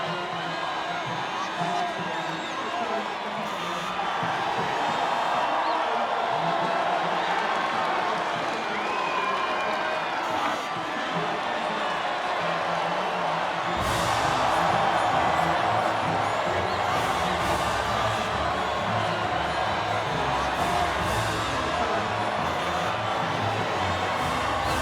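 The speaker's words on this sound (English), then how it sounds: "the reaction from the crowd must be incredibly uplifting for them" A large crowd cheers and applauds at the podium after the Austrian Grand Prix in the F1 25 racing game, a steady, dense roar of voices and clapping that swells slightly midway and continues throughout.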